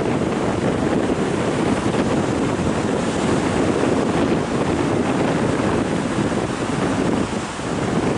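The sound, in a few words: sea waves crashing against rocks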